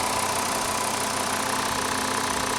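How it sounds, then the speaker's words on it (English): A 2.5-litre five-cylinder car engine with a check engine light on idles steadily and close, a constant low mechanical hum with a slight knocking texture and no voices. "Even though it's got a check engine light, it seems to be running okay."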